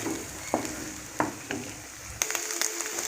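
Eggs with salt are stirred and scrambled in a hot pan for a Kerala street-food egg and tapioca dish. Quiet steady sizzling runs throughout, broken by a few sharp scraping taps of the spatula against the pan.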